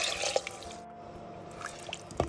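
Tamarind water pours into a garlic gravy (poondu kulambu) in a cooking pot with a few soft, quiet splashes and drips, close up and without talking.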